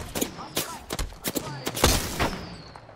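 Gunfire in the video game Apex Legends: a series of sharp, loud shots in irregular bursts over about three seconds, with a voice briefly heard in the mix.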